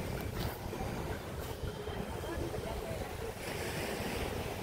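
Rough sea waves rolling onto the shore at Wiljurich Beach Resort in Botong, Oton, Iloilo, a constant roaring wash of surf mixed with gusty wind buffeting the microphone.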